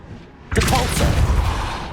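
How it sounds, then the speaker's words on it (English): A Confringo fire spell goes off in Hogwarts Legacy with a sudden loud blast that swells into a roaring, rumbling burst and keeps booming for over a second. "Confringo!"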